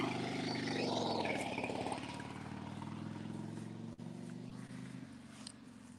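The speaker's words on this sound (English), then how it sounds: "There's a motorcycle coming through here, so just bear with it." Old Harley motorcycle rumbling past on the Gettysburg battlefield, a low throbbing engine loudest early on and then fading into the distance, with no voices.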